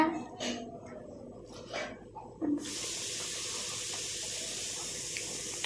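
Water runs from a household tap into a container, a steady hiss that starts partway through and continues to the end, fairly close, following a few faint clinks and soft household noises.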